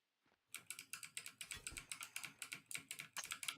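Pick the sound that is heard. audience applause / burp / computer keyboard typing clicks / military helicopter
computer keyboard typing clicks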